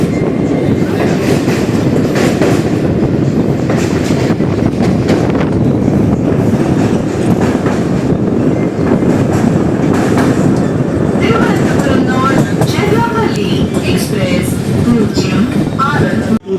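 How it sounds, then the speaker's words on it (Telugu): The Amrit Bharat Express rolls steadily on its rails, a loud, continuous rumble with rhythmic clickety-clack wheel beats and wind buffeting throughout, and a voice occasionally audible beneath the noise. "మన ట్రైన్ జర్నీ కంటిన్యూ అవుతుంది."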